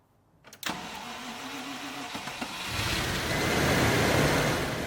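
A 1986 Range Rover engine cranks briefly, catches and settles into a rough idle, then revs up into a louder, broadband roar as it pulls out of a workshop.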